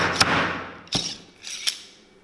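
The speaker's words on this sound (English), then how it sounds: "the plunger here, that becomes the hammer, and it drives down the nail." Nailing plunger striking a nail into a boot heel during a Saint Laurent boot restoration, three sharp metallic knocks spaced roughly 0.7 seconds apart, close and clear, each trailing off quickly, with no talk.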